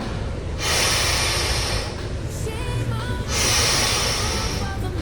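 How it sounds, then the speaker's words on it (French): Two strong, forceful breaths rush in and out during a kneeling floor strengthening exercise, each a loud airy burst lasting about two seconds, close up with a short pause between them. "Je respire très fort"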